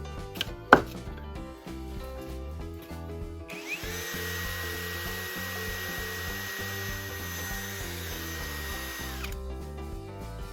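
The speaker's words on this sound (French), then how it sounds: "je l'ai mis dans la perceuse et je vais le faire tourner sur un bout de papier de verre" An electric drill spins a small piece of wood against sandpaper in an improvised wood-turning setup, giving a steady, loud whirring grind for about six seconds after a few sharp knocks and taps from handling.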